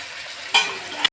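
Water hits a hot pan of sizzling cauliflower roast, and a sudden loud hiss bursts up halfway through. It settles into a steady frying sizzle, with a second brief flare just before it cuts off.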